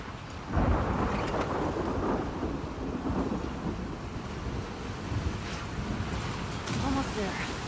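Thunder rumbles over steady rain and wind while waves wash and surge in a stormy sea scene in The Last of Us Part II, during speed boating toward a Ferris wheel, with a dense, continuous roar that swells in bursts.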